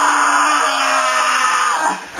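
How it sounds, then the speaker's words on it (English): A ghost in the horror film Pulse lets out a sustained, harsh, distorted scream, loud and close, holding steady for about two seconds before trailing off. "they scream at you"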